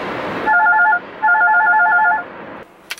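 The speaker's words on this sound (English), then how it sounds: "Sorry about that, I had a phone call." A telephone rings twice in short trilling electronic bursts, loud and close, with a brief pause between the rings; the ringing stops and a small click follows.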